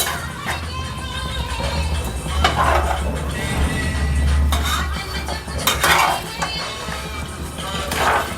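A spoon stirs veg manchurian with flour slurry in a pan, giving steady metallic scraping and clinking against the cookware with a low background hum and no talk.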